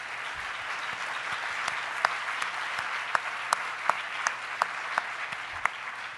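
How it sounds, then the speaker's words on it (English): An audience at a university event applauds a sponsor in a soft, steady wash of clapping, with a few individual claps standing out nearby. "Ed, if I can have you stand so we can give you a round of applause"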